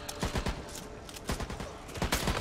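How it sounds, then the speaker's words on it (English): Rapid assault rifle gunfire in the shooter game Back 4 Blood, made up of repeated bursts of sharp reports that fill the whole clip at a steady, dense pace, with faint game sounds in the background. "Assault rifle!"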